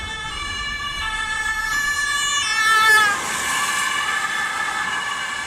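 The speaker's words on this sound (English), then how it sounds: "an emergency vehicle is approaching from behind" Wailing emergency siren on a European road, rising and sweeping in a steady two-part cycle as it closes in from behind a car, loud and clear with road noise beneath and no talk.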